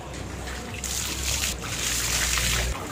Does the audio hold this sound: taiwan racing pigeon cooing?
no